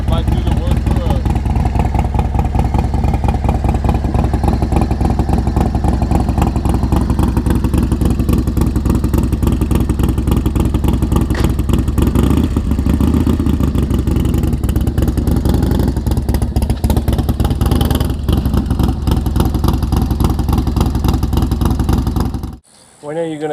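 An old Harley-Davidson motorcycle rumbling steadily while riding, a loud continuous engine drone with clattering pulses that holds for over twenty seconds before cutting off abruptly near the end.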